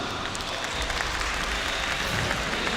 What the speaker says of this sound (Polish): Jest pierwszy smok dla Mymu, wielkie brawa.